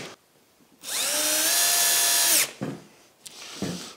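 A power drill drives 3.5 by 16 screws straight into a wardrobe drawer mechanism, whirring loudly with a rising whine for about a second and a half, then two short bursts that follow.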